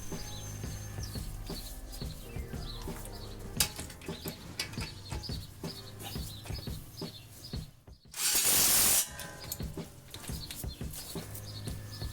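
A bolt on a Nissan Sentra brake is tightened with a ratcheting tool, giving a run of small clicking mechanical sounds close by, broken by a brief burst of hiss.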